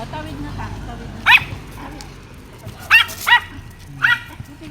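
A dog outdoors on a street gives four short barks, one near the start and a cluster of three later, under steady background noise and some talk.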